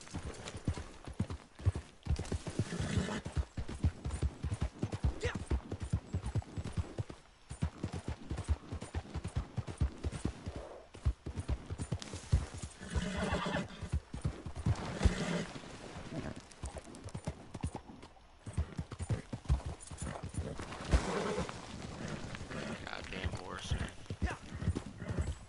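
A horse's hooves clop in a steady walking rhythm, close and fairly loud, with a brief whinny rising among them and voices talking over the hoofbeats.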